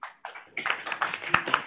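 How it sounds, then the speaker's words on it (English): A short scattered round of hand clapping from a small group at a PowerShell coding session, sharp claps starting sparse and thickening briefly before fading. "I'm not sure that deserves a round of applause"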